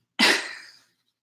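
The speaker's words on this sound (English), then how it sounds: "So, sneezing is proof that I'm a real person." A single sharp sneeze bursts out close by, then trails off quickly into silence.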